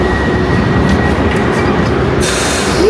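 A train moves through a station with a loud, continuous rumble and rail clatter, and a bright high-pitched wheel squeal rises sharply near the end.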